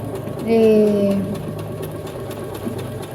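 A Brother CS6000XL sewing machine runs decorative stitches at a slow, even pace, giving a steady close mechanical hum with a brief louder whir early on and a faint voice underneath.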